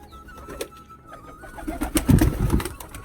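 Pigeons cooing in a loft: soft, low, throaty coos that swell toward the end, with faint rustling and background noise around them.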